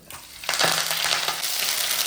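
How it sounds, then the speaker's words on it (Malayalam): Mustard seeds, dried red chillies and curry leaves drop into hot coconut oil and burst into a sudden loud sizzle with quick crackling pops, close and steady afterward, with no talk. "ഞാൻ രണ്ട് വറ്റൽമുളകും കുറച്ച് കറിവേപ്പിലയും ഇടുന്നുണ്ട്"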